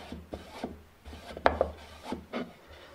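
Pumice stone rubbed on a wood surface during finishing gives short rasping scrubs in an uneven rhythm, close and fairly quiet, with a couple of sharper scrapes partway through.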